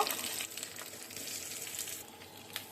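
Curry leaves and chopped onion sizzle in hot oil as potato bhaji is tempered. A steady, soft frying hiss runs close by throughout, with a faint stir or two and no talking.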